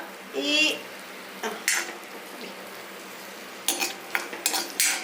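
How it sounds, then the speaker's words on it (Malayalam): Ginger sautéed and stirred in coconut oil for a Kerala long green beans curry, with a soft background sizzle and a few close clinks and scrapes of a utensil against the pan in short bursts. "ഇതെല്ലാം ഒന്ന് നന്നായിട്ട് വഴറ്റിയെടുക്കണേ"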